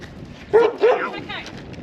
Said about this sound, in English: Just feeding the dogs at the moment, so that's why they're carrying on like 2 bob watches